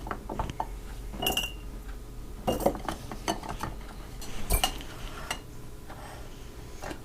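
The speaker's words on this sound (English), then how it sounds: "Next, I'm going to add a couple of baby carrots to each jar." Baby carrots clatter into glass mason jars in a series of sharp, irregular clinks and taps, close and fairly quiet, with no voices over them.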